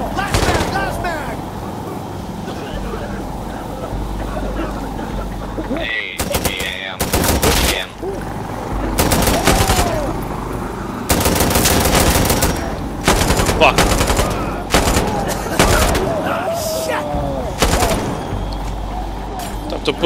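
Rapid machine-gun fire in a first-person shooter video game, with loud sustained bursts and several pauses between them, mixed with other gunfire and game effects as a player talks over it.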